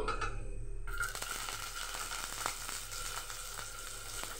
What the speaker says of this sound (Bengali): একটু ভাজা ভাজা করবো, খেতে খুব ভালো লাগে।